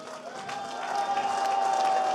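An audience at a metal festival in Vouziers, France, applauds and cheers a guest musician, a steady, swelling wash of clapping and crowd noise over a lingering sustained tone from the stage.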